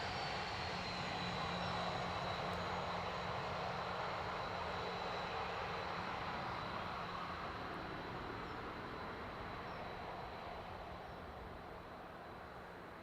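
An Air France airliner at Dublin Airport, its engines giving a steady, broad roar that holds loud and even throughout, easing off slightly toward the end, with a faint high whine above it.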